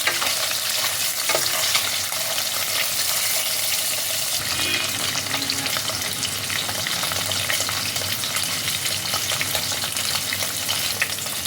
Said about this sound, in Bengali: মাছগুলোকে উল্টে দিয়ে অপর পিঠটাকেও এরকমভাবে ফ্রাই করে নেব।